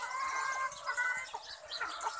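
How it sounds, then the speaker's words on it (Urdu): Egg-laying hens at a poultry farm cluck in a busy, overlapping chorus, fairly faint and steady, with no voices over them. "آج میں مرغی فارم میں آیا ہوں، انڈے دینے والی مرغیاں ماشاء اللہ دیکھیں آپ لوگ"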